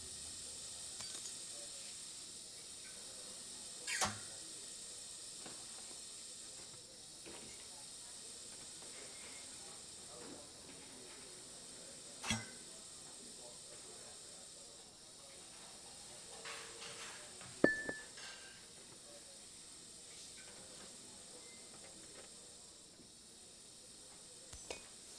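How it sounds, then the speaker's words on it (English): Continuous soft hiss of steam pouring from unconnected pipes in the puzzle game Assemble with Care, steady throughout with occasional faint clicks and short bumps layered over it. "I'll need to connect all the pipes correctly to stop the steam pouring"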